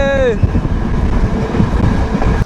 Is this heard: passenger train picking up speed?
yes